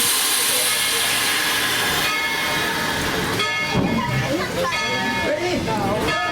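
The Tweetsie Railroad train on opening day gets under way, a dense hiss and rumble from the cars with rising chuffs and squeals, while voices talk throughout over the noise.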